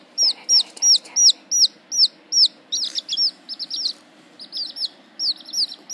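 Baby chicks chirp nearby in a steady series of high, sharp peeps, roughly three or four per second, with a faint soft background and no voices.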